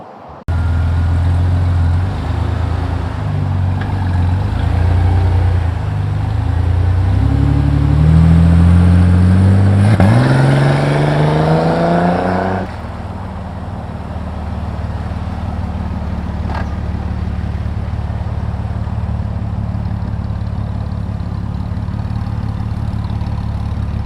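A Jeep Cherokee XJ on 37-inch tires runs its engine, a low steady rumble with a rising rev partway through, then settling back to an even idle.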